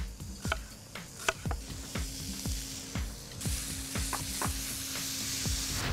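Corn, red pepper and yellow onion sizzle steadily in a hot pan, broken by repeated sharp clicks and scrapes from stirring, with the frying growing brighter and louder partway through; no one speaks.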